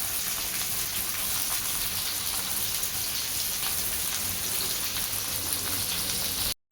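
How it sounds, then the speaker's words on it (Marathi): Bitter gourd (karela) slices fry in hot oil in a pan, giving a dense, steady sizzle that crackles evenly throughout before cutting off abruptly at the very end. "आपण दुसरे पण काप टाकून घेतलेले आहेत आणि अशा पद्धतीने हे तळून घ्यायचे आहेत"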